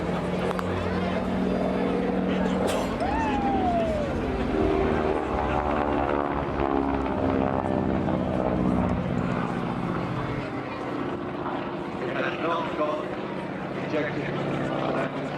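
Harvard G-NWHF, a propeller trainer aircraft, drones overhead at an air show with a steady engine and propeller roar, heard under continuous announcer commentary over a public address.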